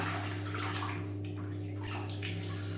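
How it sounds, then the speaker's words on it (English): Running water splashes and pours steadily near a bathroom sink as it is wetted onto a head before shaving, a continuous sloshing wash over a low electrical hum. "I'll just put some water on my head first."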